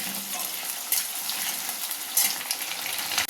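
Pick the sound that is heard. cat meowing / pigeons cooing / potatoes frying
potatoes frying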